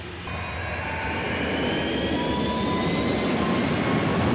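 Avro Vulcan jet bomber flying at high altitude in a scene from the 1965 film Thunderball, a steady loud roar of jet engines that swells slightly with rising whining tones, continuous and alone with no talk.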